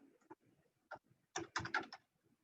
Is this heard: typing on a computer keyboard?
yes